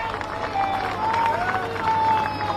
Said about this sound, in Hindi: तो एक बार जोरदार फिर ताली बनती है